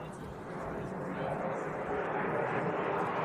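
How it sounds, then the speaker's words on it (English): A big jet airplane, not a passenger plane, flies overhead at a baseball game. It makes a broad, steady, rising roar that fills the whole clip and builds slightly in loudness, with voices partly under it. "That's a big old boy flying over. That is not a passenger plane."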